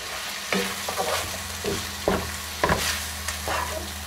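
Spoon scrapes through tomato paste stirred into browning beef for a Tuscan stew, with a sizzling pan and several distinct strokes and clinks, close up and without talk.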